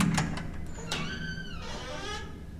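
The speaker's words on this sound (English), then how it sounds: "It's the door noises." Creaking, scraping door noises in the survival horror game Resident Evil 7: Biohazard, a few short knocks followed by a long drawn-out groaning creak with a tonal, metallic edge, fairly close and clear over a low background hum.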